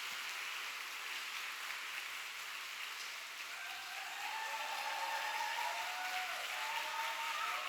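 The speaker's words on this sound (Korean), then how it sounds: "박수해 주세요." A church congregation at a Friday late-night prayer meeting applauds steadily at a moderate distance, the clapping dense and continuous, with a few voices rising faintly in the second half.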